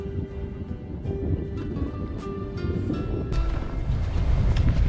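Strong, gusty wind roars steadily along a snowy mountain ridge on Sobaeksan in Korea, a broad rumbling rush into the microphone that swells louder toward the end, with no voices.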